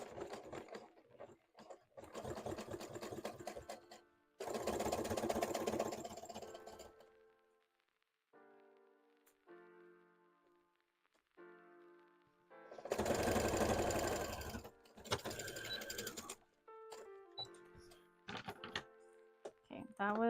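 A sewing machine labours through thick layers of a Pokemon plush in several loud bursts separated by pauses, with quieter handling noises between runs.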